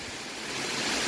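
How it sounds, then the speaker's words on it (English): A tiered waterfall spilling down a series of rock steps at Bethel Spring Falls, a dense, steady hiss of rushing water that builds slightly louder toward the end with no voices. "This waterfall is an example of a tiered waterfall. It is a type of waterfall that goes down a series of steps."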